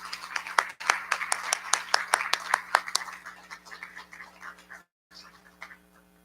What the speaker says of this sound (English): Nice big round of applause for them.